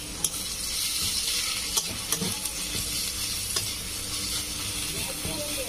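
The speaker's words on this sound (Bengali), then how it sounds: "পেঁয়াজটা একটু ভালো করে ভেজে নেব।" Chopped onion frying in a pan on a gas stove, a steady close sizzle and hiss with a few light clicks of stirring, and no talking.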